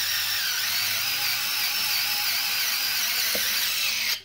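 A power drill whines steadily as it drives a screw into a metal desk leg, a continuous high-pitched motor hum that cuts off abruptly at the end, with no talking.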